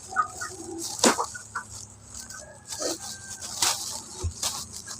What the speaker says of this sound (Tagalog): Ngayo ng manok guys. Ay, manok ko.